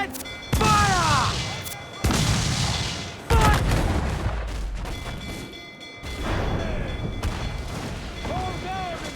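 Warship cannons boom in Assassin's Creed 4: Black Flag during a naval battle, several heavy blasts at irregular intervals against sea ambience, with shouted crew orders and voices over the top.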